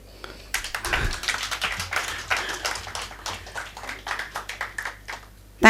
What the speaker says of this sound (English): Why are we so cautious about clapping?